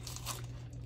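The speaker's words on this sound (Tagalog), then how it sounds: "Isang kagat lang kay Jamie" A dog bites into a whole unseasoned baked turkey, giving a brief, close crunching and tearing sound with a faint chewing texture, all under a second long.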